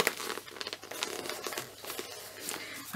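Crafting material being folded in half for a handmade wallet, with close, soft crinkling and rustling handling noises, fairly quiet and irregular.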